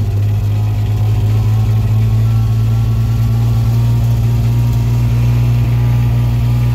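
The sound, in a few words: diesel side-by-side engine running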